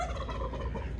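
Turkeys gobble in a brief burst of rapid, throaty warbling, fairly close and loud.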